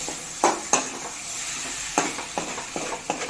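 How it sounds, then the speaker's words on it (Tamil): Chicken sautéing in a pan with a spatula scraping and stirring in sharp, irregular strokes over a steady background sizzle, close and fairly loud, no talking. "சிக்கனை மூடி வச்சு நல்லா வேகிற அளவுக்கு வதக்கி விட்டு எடுத்துக்கலாம்"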